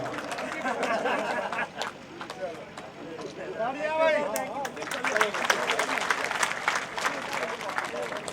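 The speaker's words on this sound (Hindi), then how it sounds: "जबवाल ब्रदर उमर साहब को जो हार पहना रहे हैं तालियों के साथ।" Crowd applause at an election gathering in Samba, ringing out as a garland is placed on a politician, with chatter and a speaking voice over the clapping throughout.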